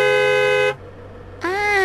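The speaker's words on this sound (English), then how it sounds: "Hey, honk the horn." A car horn honks twice, a loud sustained blast, a brief pause, then a second blast with a shifted pitch, close and alone.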